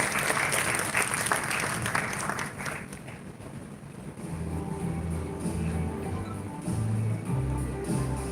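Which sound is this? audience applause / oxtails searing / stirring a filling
audience applause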